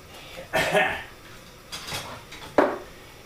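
A potato masher is handled in a kitchen while making a sugar-free apple crumble, with three separate metallic clatters and scrapes, close and fairly loud, spaced by quiet pauses.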